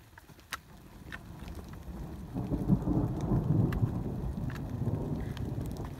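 Thunder rumbles low and distant through steady rain during a storm on the Appalachian Trail, swelling midway and holding as a long soft roll under the patter of falling drops.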